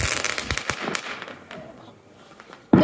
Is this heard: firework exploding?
yes